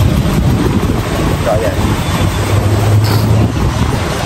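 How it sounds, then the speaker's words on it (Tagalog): Strong sandstorm-like wind roars continuously against the microphone in a dense, steady rumble, and a person talks over the gusting noise. "Basta may mahangin, para may sandstorm."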